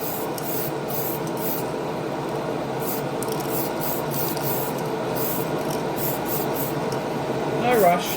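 Spray can paint laid on as a flow coat for a gloss finish, a steady continuous hiss running close and unbroken throughout, with a brief louder bump near the end.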